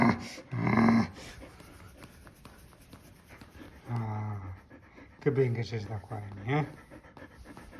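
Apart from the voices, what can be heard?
dog panting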